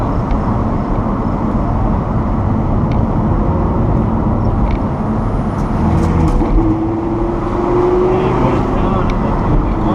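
Car engine while driving, a loud steady road drone and engine hum with tire and wind noise filling the cabin throughout, a faint rising whine near the end.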